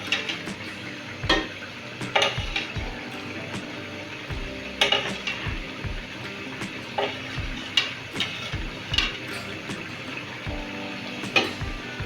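Pieces of shol (snakehead) fish going into a pan of Bengali jhal curry sizzle steadily under repeated spatula scrapes and metallic clinks, close and fairly busy throughout.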